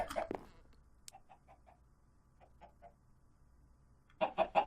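Chickens in the video game Sky Factory 3 clucking in short, soft bursts of clipped notes at an even pace, quiet at first, then a louder cluster of three clucks at the end.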